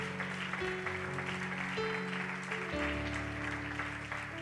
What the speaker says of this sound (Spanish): Le damos un aplauso al Señor en esta mañana.